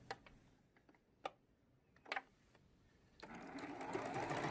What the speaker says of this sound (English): sewing the seam from one side to the other